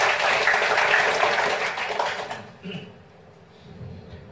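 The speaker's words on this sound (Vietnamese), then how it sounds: "Xin chào chúng tôi một tràng vỗ tay đầu tiên" An audience at a talk on prefabricated house construction gives a burst of applause that fades out after about two seconds, leaving quiet room tone and a few faint sounds.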